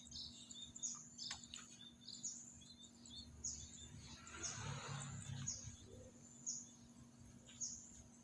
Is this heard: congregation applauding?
no